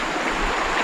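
Small waves lap and splash against a fishing boat out on the water, heard as a brief, steady wash of rushing water without any voices.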